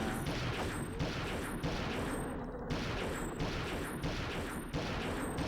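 Continuous rapid automatic gunfire in the video game Perfect Dark, a dense steady stream of shots that stays loud throughout, with a brief pause partway through.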